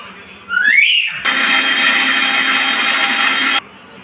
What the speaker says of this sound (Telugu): ఈ పప్పు గ్రైండ్ చేసుకుంటున్నప్పుడే పచ్చిమిర్చి చిన్న అల్లం ముక్క జీలకర్ర ఒక నాలుగు మూడు పచ్చిమిర్చి తీసుకుని వాటితో పాటు గ్రైండ్ చేసుకోండి